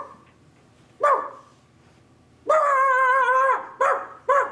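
A storyteller's voice imitates dogs barking, giving several loud, close barks in an uneven rhythm: single yips, one drawn-out howling bark, then two more quick barks.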